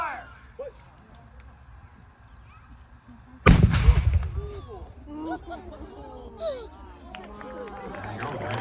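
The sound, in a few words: historic fort artillery gun firing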